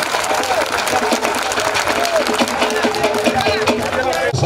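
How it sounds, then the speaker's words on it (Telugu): A crowd at a TSRTC workers' strike rally in Hayath Nagar applauds steadily to welcome a speaker, with dense, continuous clapping and some voices audible under it. "చప్పట్లతో అందరూ స్వాగతిద్దాం"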